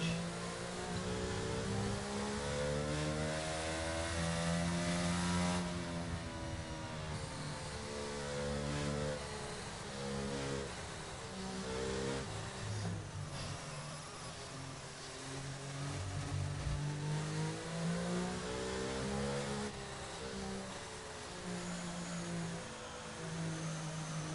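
Formula 1 car engine in the F1 22 video game at the Bahrain Grand Prix, a loud, steady high-pitched whine that climbs and shifts pitch through gear changes as the car pushes to overtake, continuous throughout with no talking.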